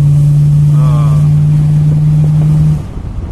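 A Ford Gran Torino's engine gives a deep, steady drone with a strong low hum for a few seconds, then cuts out, leaving quieter rumbling behind.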